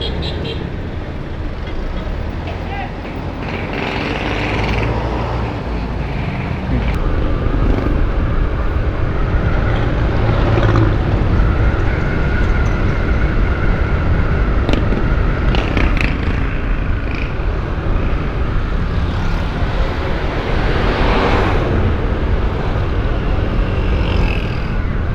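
Road traffic heard from aboard a moving Yamaha Aerox 155 motor scooter, a continuous close rush of engine and wind noise with passing vehicles rising and fading, while someone talks over it now and then.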